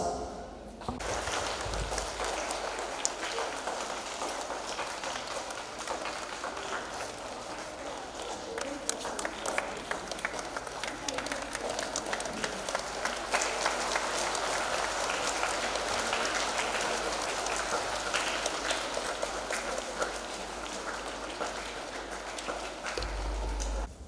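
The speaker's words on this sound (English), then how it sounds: "Please join me in giving a warm round of applause" An audience at the inauguration of a school science expo claps in a long, dense burst of applause. It carries on steadily for over twenty seconds with scattered louder claps and faint voices mixed in.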